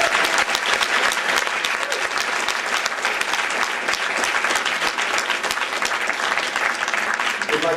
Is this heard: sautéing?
no